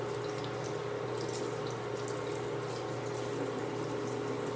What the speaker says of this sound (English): So I'm gonna wash it out now while I'm thinking about it.